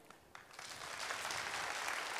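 Crowd clapping at a live horse show event, starting with a few scattered claps and quickly building into steady, full applause from a large audience.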